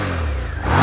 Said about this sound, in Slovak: môžem predviesť aj zvuk, ktorý sa skrýva v srdci tohto motora a aj s touto koncovkou, ktorá je plne sériová